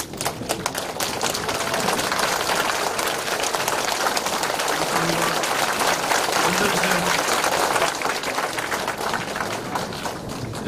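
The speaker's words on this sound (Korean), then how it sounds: "우리 다 같이 일어나셔서 박수로 환영하겠습니다" Sustained applause from a standing congregation at a church founding and pastor's inauguration service, steady clapping filling the room for the whole stretch, with some voices mixed in beneath.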